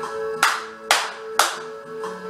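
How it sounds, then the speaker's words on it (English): Children clap along to a song, with four crisp, evenly spaced claps about half a second apart ringing out over a steady musical backing. "Everybody clap."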